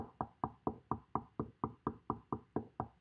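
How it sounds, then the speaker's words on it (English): Steady knocking on a door, about a dozen evenly spaced, firm raps at a brisk regular pace, close and clear with no voices. "he's been knocking on your door"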